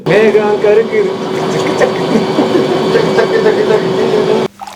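A spa jacuzzi runs its water jets with a loud, steady churning rush and a mechanical pump hum. The sound is close and continuous, then drops suddenly near the end.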